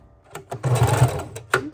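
A sewing machine stitches a miniature junk journal in a short, close burst of rapid mechanical whirring, framed by a few quick clicks before and after.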